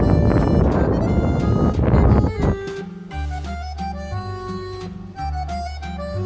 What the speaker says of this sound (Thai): ลมค่อนข้างแรงมากเลยนะคะ